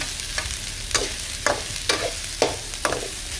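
Corn kernels are stir-fried in a pan, with about six regular scraping stirs in a row over a soft, steady sizzle and no voices.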